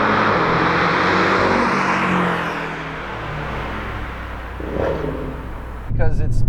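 A Porsche 718 Cayman with a 2.5-liter engine drives through Malibu, giving a steady, moderately loud engine drone with a slight swell near the end, while someone talks over it.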